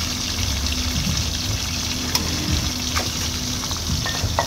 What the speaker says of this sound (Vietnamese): Tôi chỉ chiên cho nó vàng vàng á